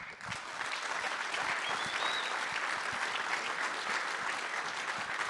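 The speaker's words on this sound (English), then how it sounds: "Can I get a round of applause for Sam?" An audience at a fireside chat on legal technology breaks into sustained applause, a steady dense patter of many hands heard from slightly back in the room and holding evenly throughout.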